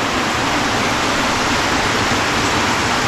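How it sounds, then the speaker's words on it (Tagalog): Heavy rain pours down in a steady, dense roar, loud and continuous throughout with no voices. "Lakas ng ulan."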